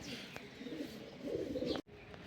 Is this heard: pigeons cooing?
yes